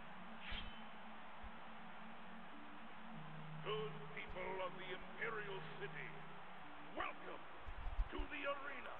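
Two pit dogs in the arena of the video game Oblivion bark and yip in short bursts, scattered throughout and mixed with a voice talking.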